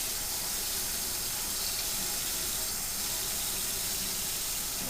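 Very hot water is poured steadily into a fruit concentrate wine mixture in a sanitized container, making a continuous close gushing, splashing stream with no talking.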